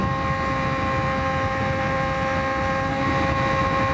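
A Honda CBR1000RR-R motorcycle engine runs at a steady, even drone while riding, with a sustained tonal hum under rushing wind noise and no voices.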